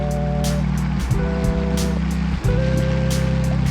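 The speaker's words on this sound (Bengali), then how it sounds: "জল বয়ে যাচ্ছে।" A rocky river at the Eco Park viewpoint in Cherrapunji, Meghalaya, flows in the rain with a steady, loud, broadband rush of water. The roar is continuous and close, overlaid by faint tonal humming.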